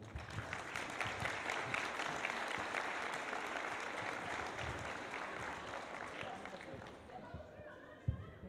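A school graduation audience applauds the director with dense, sustained clapping, mixed with faint crowd murmur and a few footsteps, before the clapping fades out.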